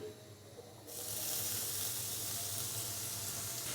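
Garlic paste hits a hot pan with cumin seeds and bursts into a loud, sustained hiss that starts abruptly about a second in and stays strong and close to the end, with no voices.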